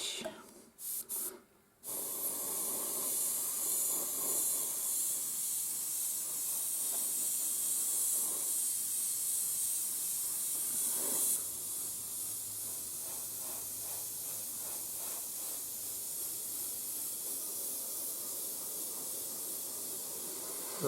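Airbrush paint misted lightly over the roof of a 0-scale model DB MBW covered wagon gives a steady close hiss, broken by a few short bursts at the start and a slight dip in tone partway through.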